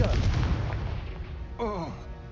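Confringo explosion spell cast in Hogwarts Legacy: a dense, booming burst of game combat noise up front, fading, then a brief tonal magical whoosh near the end.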